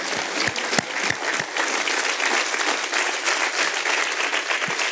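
A church congregation claps in a dense, sustained wash of applause that stays loud and even for several seconds, with a few sharper individual claps standing out and almost no voices.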